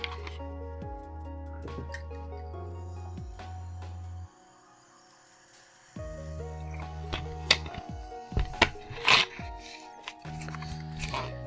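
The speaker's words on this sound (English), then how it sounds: "I'm gonna try to pour myself a drink" A drink is poured and dribbles into a glass during a Minecraft hardcore stream, with soft splashing and dripping layered over looping game music that drops out briefly, plus a few sharp clinks and taps toward the end.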